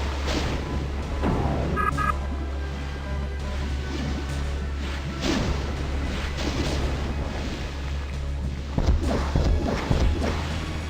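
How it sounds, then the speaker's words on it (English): Rockets from a rocket launcher fire and explode in Doom during a dense, chaotic fight, giving repeated whooshes and heavy booms layered over a constant loud rumble of battle noise with no pauses. "And then I remember that I have rockets."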